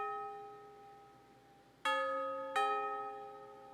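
Bell sample triggered on an Akai MPC: a sustained ringing tone already decaying, then two fresh bright bell strikes about a second apart, each with rich overtones ringing on alone.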